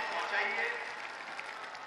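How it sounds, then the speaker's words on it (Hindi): Audience applause for a chief minister at a student interaction event in a large hall, a faint crowded patter of clapping at a distance, with a voice on a loudspeaker talking over it. "जरा जोरदार तालियों से अपने इस अभिवादन को पहुँचाइए"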